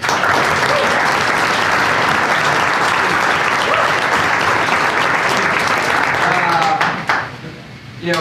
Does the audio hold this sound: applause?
yes